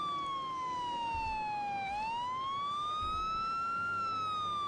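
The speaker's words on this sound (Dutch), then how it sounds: "Zo, we zitten de sirenes even aan." Police car siren wailing in the Emergency 4 video game, a loud continuous tone sweeping down then back up with clear harmonics, running steadily alone over low traffic rumble.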